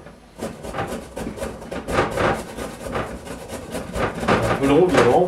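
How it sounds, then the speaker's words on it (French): Carrots being grated by hand on a manual grater give repeated rough rasping strokes in a steady back-and-forth rhythm, close and moderately loud, with a voice speaking faintly underneath. "Un peu long, évidemment, à râper tout ça."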